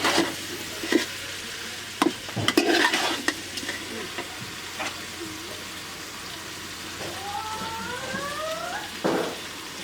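A pan stir-fry hisses steadily at close range while a utensil scrapes and knocks against the pan in irregular bursts, with faint tonal voice-like sounds in the background near the end.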